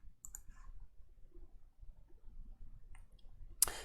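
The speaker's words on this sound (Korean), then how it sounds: "Scratch 버튼을 클릭해 줍니다." Computer mouse clicking on a button in the Scratch editor, a few faint, sharp clicks scattered over quiet room tone, with one crisper click near the end, close and alone.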